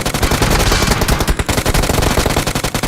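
Rapid automatic gunfire in PUBG Mobile, a loud continuous burst of shots close up, filling the whole moment with no talk.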